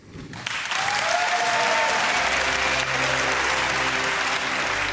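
An audience at a youth inventors' awards ceremony breaks into loud, sustained applause, a dense wash of clapping that continues to the end.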